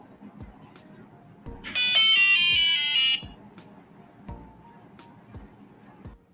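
A loud, shrill piezo buzzer sounds for about a second and a half amid scattered clicks and taps of buttons being tested nearby.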